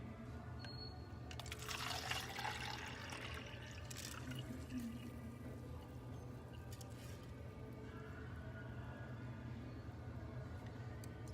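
Fermented rice water pours through a strainer into a cup, a faint trickling splash near the start that settles into quiet dribbling and low room noise.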